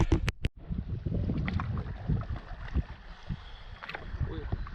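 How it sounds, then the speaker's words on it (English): Canoe paddling across a lake in the Boundary Waters wilderness, with soft water splashes and paddle strokes close by under steady wind noise, after a few sharp knocks at the start. "We are now paddling on Agnes."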